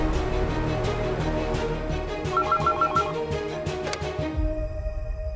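A telephone rings in a quick repeated trill amid dense, busy background sound, then the ringing stops near the end.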